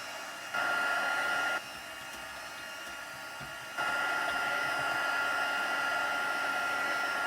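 A craft heat tool blows hot air to warm embossing powder on paper, a steady rushing whoosh that starts, cuts out briefly, then resumes loud and continuous with no talk.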